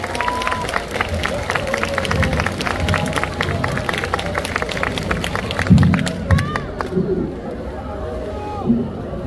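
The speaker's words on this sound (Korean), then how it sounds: "춘향이를 큰 박수로 모셔보도록 하겠습니다." Audience clapping and cheering at an outdoor trot festival stage during a fusion Korean traditional music show, a steady crackle of many hands under crowd chatter and a speaking voice, swelling briefly near the middle.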